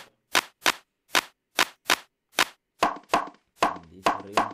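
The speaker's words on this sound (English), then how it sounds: "A clap." A clap sample in a beat being produced, sharp dry claps repeating in a quick rhythm, later joined by pitched percussive hits, close and alone without any talking.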